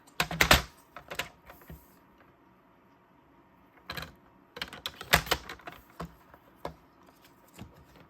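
A paper trimmer or scissors cuts a plaid patterned paper piece from a cardmaking kit, giving sharp clustered slicing and tapping clicks in two bursts with quieter handling between them, close and crisp.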